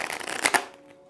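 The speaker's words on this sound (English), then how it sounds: "These are kind of hard to shuffle." Tarot cards being shuffled by hand in a short, close riffle of papery flutters that swells to two brief peaks and then stops, leaving near silence.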